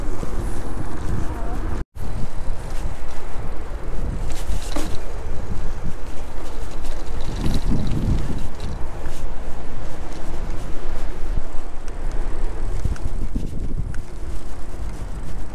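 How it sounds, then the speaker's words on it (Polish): Strong gusts buffet an outdoor microphone during a food delivery trip in a Polish city, producing loud, continuous low rumbling and flutter throughout, with a brief dropout near the start. "Pizga wiatrem"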